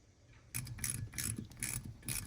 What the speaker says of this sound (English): the final step in this caliper rebuild is installing the bleeder screw